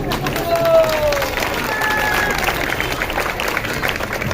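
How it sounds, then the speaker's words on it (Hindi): An audience at an ISKCON temple's Maha Deepdaan festival applauds, a dense, steady wash of clapping mixed with crowd murmur and occasional voices, held at an even level throughout. "जोरदार तालियों के बीच।"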